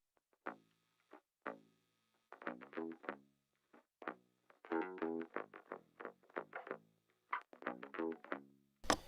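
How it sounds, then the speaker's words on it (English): Thin, trebly bass notes with the low end stripped away, plucked in short separate phrases with gaps between them, fairly quiet. "I am isolating the top end of the bass"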